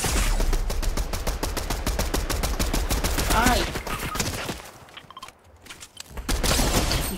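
Rapid bursts of gunfire in the video game Far Cry 6, dense volleys of shots for several seconds, a brief lull, then firing resumes; a voice is briefly heard.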